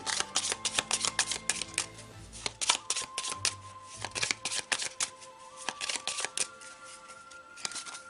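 Tarot cards shuffled by hand close up, a quick run of crisp riffling and flicking slaps in irregular bursts, with no voices.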